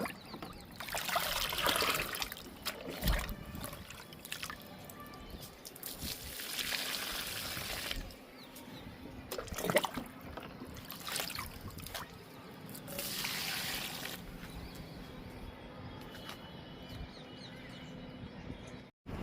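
Homemade liquid fertilizer trickles and dribbles onto the soil of a pink oleander plant in a garden, in several separate pours of gentle splashing separated by short pauses, close and fairly soft.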